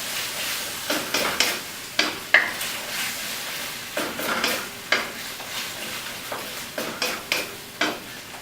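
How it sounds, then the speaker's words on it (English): Chicken liver is stir-fried in a pan with tamari sauce, giving a steady sizzle broken by repeated scraping and clanking strokes of a spatula at an even, brisk rhythm, close and clear. "1 tablespoon of tamari sauce. And you need to really stir fry it."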